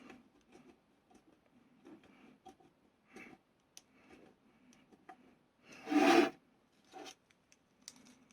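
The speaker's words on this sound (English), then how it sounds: "So that's screwing this down." A small screwdriver drives a screw into a part of an Enterprise D model, heard as faint, close ticking and rasping turns with one louder grinding scrape partway through and no speech.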